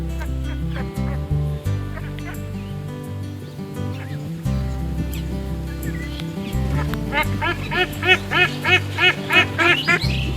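Ducks move about on village pond water in Bangladesh while catching fish, giving layered honking calls that build into a quick run of repeated, fairly close quacks toward the end.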